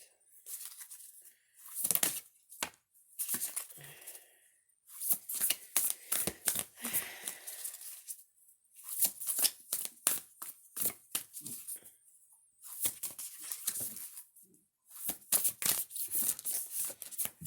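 Tarot cards being pulled apart, shuffled and handled, giving repeated crisp flicks and papery riffles in short bursts with brief pauses, close and fairly quiet, with no talk.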